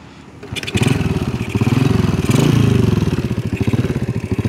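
A standard-engine motorcycle fitted with a PE 24 carburetor runs loud and close, its mid-pitched idle pulsing in a steady rapid beat with slight revving swells and no talk.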